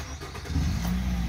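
A 2013 Nissan Rogue with a camshaft sensor problem cranks and catches, its engine rising into a steady low idle rumble close by, alone without talk.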